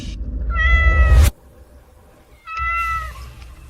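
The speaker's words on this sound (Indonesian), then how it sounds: "Ternyata cuma kucing." A cat lets out two drawn-out meows, the first louder and rising, the second after a short quiet pause, both close by, with no talk.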